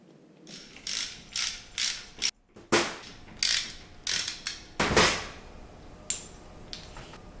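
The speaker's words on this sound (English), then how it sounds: "Pop a hose clamp on, pop your barbed fitting in, you tighten it down." A hose clamp being tightened onto a barbed fitting on a home electric brew-in-a-bag setup gives loud, close ratcheting bursts, about ten short runs of clicks with brief pauses between them.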